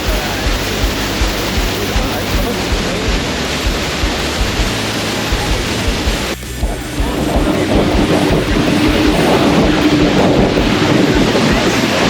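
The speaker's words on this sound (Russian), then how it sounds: "Когда ты влетаешь прямо в водопад." The roaring Iguazu waterfall thunders as a boat drives into it, a loud, close, continuous broadband rush that dips briefly and then surges heavier with spray and wind buffeting the microphone.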